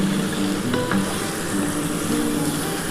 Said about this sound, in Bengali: আগে প্রথমে একটু ভালো করে কষিয়ে নিই